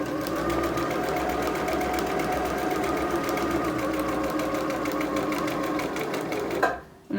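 A sewing machine stitches a fabric face mask in a fast, steady mechanical rattle that runs loud and close for several seconds, then abruptly stops near the end.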